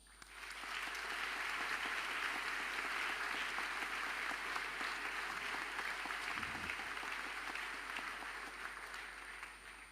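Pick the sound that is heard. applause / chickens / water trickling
applause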